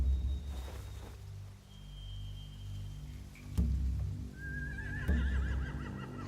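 A horse whinnies twice in a video game, The Walking Dead: The Final Season, a long wavering neigh standing out over a low rumbling ambient background with a few thuds.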